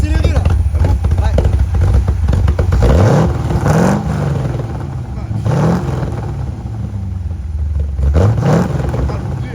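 An old American car engine roars loudly and revs up in repeated surges, each rise climbing in pitch before dropping back, with a constant rumbling drone underneath and people talking over it.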